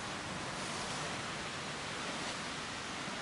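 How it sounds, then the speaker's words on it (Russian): A steady, distant roar of sea surf in East Kazakhstan fills the air as an unbroken wash of noise, with no voices. "Вот вон оно, там море шумит."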